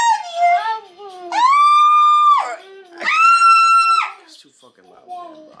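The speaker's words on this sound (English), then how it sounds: "Why are you screaming like that?" A child screams loudly in a family home: two long, piercing sustained shrieks, with shorter whining cries before and after, close and dominant.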